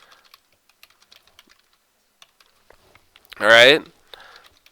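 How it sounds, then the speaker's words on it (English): Light, rapid keystrokes on a computer keyboard while text is entered into PowerPoint shapes, faint and scattered over several seconds, followed by a short spoken phrase. "I can type in those boxes."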